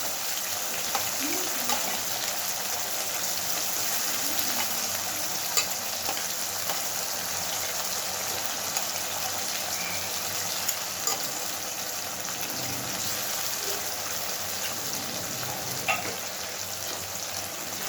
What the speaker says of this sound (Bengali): খুব ভালোভাবে এবার মশলাটা কষিয়ে নেব